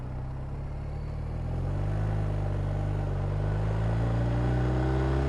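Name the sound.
BMW R1250RT motorcycle engine while riding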